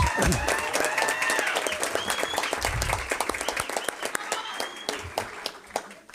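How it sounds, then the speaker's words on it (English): A school board meeting audience applauds students, a room of sharp claps that thins toward the end, with some talk mixed in. "Would you please give them a big round of applause?"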